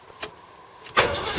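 A cold 4-litre V8 engine is cranked without throttle, giving a couple of short, close starter bursts before it catches and roars loudly at the end.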